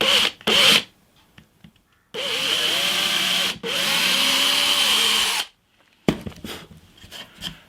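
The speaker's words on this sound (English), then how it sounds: "I'm just going to go and drill just to touch it really." A power drill whirs in several bursts, two long runs of a couple of seconds each between short starts, close by and loud, biting into the wooden body of an electric bass.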